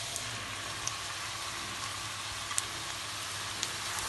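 Chopped onion frying in a pan gives a steady, hissing sizzle throughout, with a few faint ticks and pops, close and even in level.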